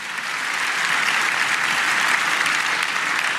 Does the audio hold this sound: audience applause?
yes